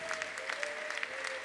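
A church congregation claps for Jesus Christ during a French-language worship service, with brief, fairly faint rhythmic handclaps over a steady sustained tone.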